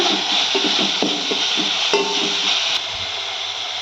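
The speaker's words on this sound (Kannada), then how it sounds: "ಇದನ್ನು ಇವಾಗ ಚೆನ್ನಾಗಿ ಮಿಕ್ಸ್ ಮಾಡಿಕೊಂಡು ಟೊಮೊಟೊ ಸ್ವಲ್ಪ ಮೆತ್ತಗಾಗೋವರೆಗೂ ಫ್ರೈ ಮಾಡ್ಕೊಳ್ಳೋಣ" Chopped tomato fries in a pan for dal while a spoon stirs it, a broad steady sizzle with a handful of light scraping knocks in the first few seconds before it settles to frying alone.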